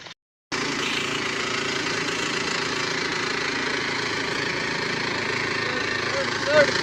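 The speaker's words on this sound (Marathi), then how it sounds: "चढलं आमचं ट्रॅक्टर," A tractor climbs a slope, its engine a steady, loud, close chugging drone that starts abruptly after a brief gap and holds without a break.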